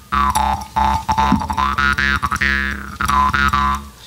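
A voice performs a ringing, bell-like ding-dong imitation with strong overtone singing, a series of resonant rhythmic pulses lasting about four seconds, loud and close.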